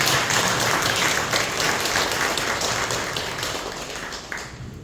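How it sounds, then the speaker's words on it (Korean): At a book concert, the audience gives a steady round of applause for a team leader. The many-handed clapping is continuous and moderately loud, then gradually tapers off. "우리 이정수 팀장님 다시 한번 박수 부탁드리겠습니다"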